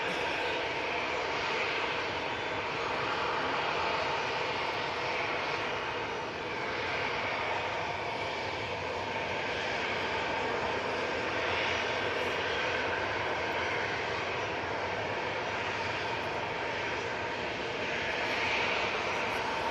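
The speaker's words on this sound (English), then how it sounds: "The EasyJet to Amsterdam is now finally off" An EasyJet airliner bound for Amsterdam takes off, its engines a steady, broad roar that holds for the full span, fairly distant and with no one speaking.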